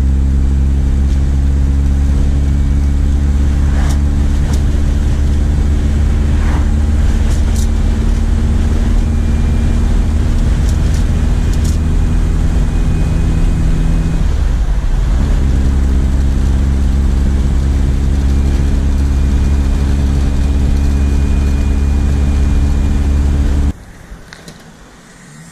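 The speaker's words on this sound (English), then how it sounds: "I hear the turbo." A boosted Toyota pickup engine fitted with a new turbo runs loud and close at a steady, rumbling idle for about 24 seconds, then cuts off abruptly, leaving a quiet room.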